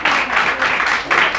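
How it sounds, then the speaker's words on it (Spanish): Church congregation applauding during a sermon, a loud, close round of clapping in pulsing surges over about a second and a half, without talk over it. "Dale un fuerte aplauso al Señor."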